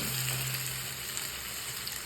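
Onions fry in hot oil with a steady, dense sizzle that holds evenly from start to finish, with no voices.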